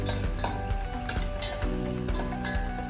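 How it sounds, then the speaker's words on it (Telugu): Cashews and almonds roasting together in a pan over a low flame crackle and sizzle steadily while a spoon scrapes and stirs them in repeated strokes, close and fairly loud. "అలానే సిమ్లో పెట్టుకొని మెల్లిగా రోస్ట్ చేసుకోవాలి"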